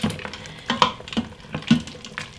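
A spoon stirs a cornstarch-and-water slurry into a simmering pot of beef tips in wine, with repeated scraping knocks and bubbling liquid sounds in an uneven rhythm, close and fairly loud.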